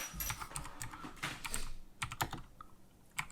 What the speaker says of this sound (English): I'll use my mechanical keyboard for it